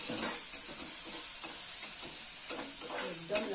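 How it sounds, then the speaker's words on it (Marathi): Onion frying in a pan until golden, with a constant bright sizzle and scattered close scrapes from stirring, no voices. "तर मित्रांनो, कांदा चांगलं भाजून घ्यायचो असं साधारण गोल्डन होईपर्यंत"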